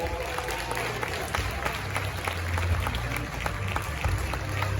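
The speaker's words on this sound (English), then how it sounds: "Shall we congratulate him with some more applause?" Audience applause at a Ghanaian media awards ceremony with a royal guest present, a continuous wash of clapping from a large crowd under low background rumble and some murmured talk.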